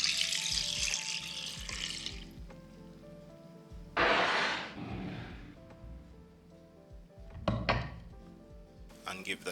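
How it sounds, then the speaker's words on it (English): Running water pours into a blender in a steady rush for a couple of seconds, preceded by kitchen clatter and followed by a few short splashes and thumps. "Add 2 cups of water."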